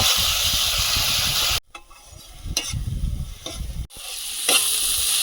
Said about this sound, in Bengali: টমেটোটা কুড়ে রেখেছিলাম সেটা দিয়ে দেবো ভালোভাবে মশলা কষিয়ে নেব টমেটোর কাঁচা গন্ধ চলে যাওয়া পর্যন্ত